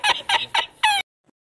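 Fowl clucking in four loud, sharp squawking bursts in quick succession, close by, then sudden silence with no voices.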